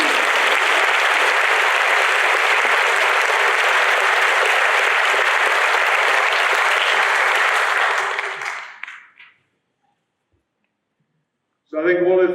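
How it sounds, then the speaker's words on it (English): Loud, sustained applause from an audience at a school prize giving, thick and even for about eight seconds before fading out to silence, then a voice starts speaking. "Let's give a round of applause to that also."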